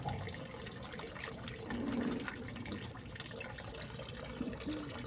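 Water splashes and trickles quietly while a cat is rinsed and rubbed during a shampoo bath, a soft continuous wash of liquid with small surges and drips, with no talk.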